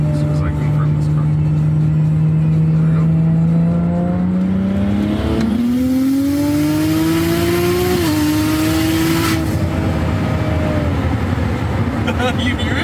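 Single-turbo BMW 135i engine revving up from a steady drone, its pitch climbing in stages with a brief dip, then settling into a sustained loud, raspy roar. It is recorded close and masks any background noise.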